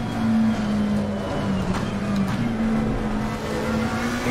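The McLaren 720S race car in Assetto Corsa Competizione at Imola, its engine holding a loud, steady droning note with slight pitch shifts and no pauses.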